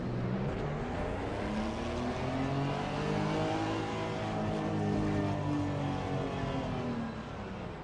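A race car drives on the Brands Hatch circuit with a steady, loud engine note that holds its pitch throughout, swelling slightly mid-clip before easing off, heard close and continuous with no talking.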